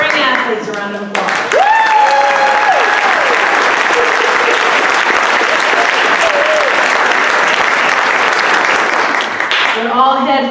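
Sustained applause fills the room at a 2019 school sports awards ceremony, honoring spring athletes; dense clapping swells right after a brief voice, holds steady for several seconds, then tapers as speech returns.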